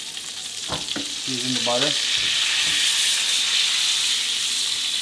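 Butter sizzles and spits in a pan as lemon juice is added and the food is basted, a steady bright frying hiss running throughout while a voice speaks briefly near the start.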